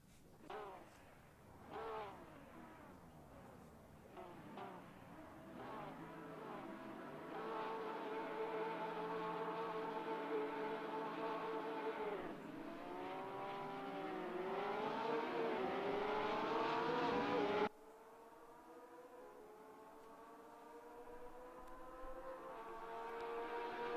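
Race cars in a racing video game at the Hungaroring roar down toward the first turn, several engines revving and whining together in a loud, continuous pack, with pitch rising and falling as they shift and pass.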